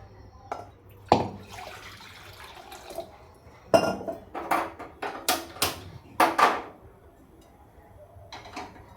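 Water pours and splashes into a pot in several short bursts, about one and a half glasses, with occasional clinks of metal and quiet pauses between.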